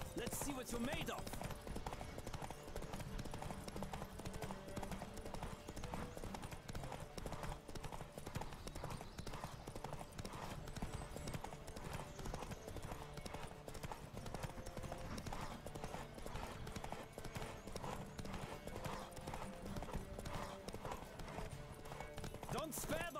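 A horse gallops hard in a race in The Witcher 3 video game, with fast, steady, rhythmic hoofbeats that keep going the whole time and voices talking over them.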